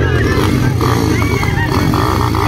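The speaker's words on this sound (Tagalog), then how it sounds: "ay motor ni Daddy Bang sa eh" A racing motorcycle engine drones loudly and steadily close by at a wet race track, with crowd chatter and talk mixed in over the engine.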